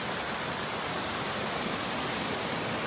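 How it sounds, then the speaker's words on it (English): A mountain creek rushes along the Alum Cave Trail in the Great Smoky Mountains, a dense, unbroken wash of flowing water heard up close and loud, with no voices. "We got the stream on both sides, creek."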